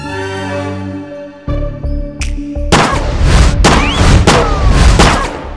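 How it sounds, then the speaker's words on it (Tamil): In a scene from the Tamil film Madurai Sambavam, a gun is fired at the ground. Several heavy, booming shots crack out close and loud after a stretch of tonal background music. "தரையில எதுக்கு சுடுறீங்க?"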